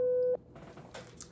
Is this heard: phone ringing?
yes